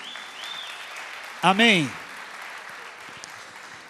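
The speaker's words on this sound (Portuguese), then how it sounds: "Uma salva de palmas para a nossa equipe linda, irmãos." Steady clapping from a church congregation runs throughout at moderate level, briefly overlapped by a single spoken word from a voice.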